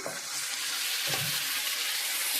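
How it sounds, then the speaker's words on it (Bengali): Spice paste with a little water cooking in a pan, giving a steady close hiss of sizzling with a couple of faint stirring scrapes. "এবার ভালো করে মশলাটাকে কষাবো, যেন কাঁচা মশলার গন্ধটা বেরিয়ে যায়।"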